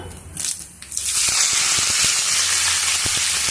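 Curry leaves, mustard seeds and cumin hitting hot oil for cabbage pappu, a loud close burst of sizzling that jumps up after a moment and holds steady, with light popping and spatter throughout and no voices.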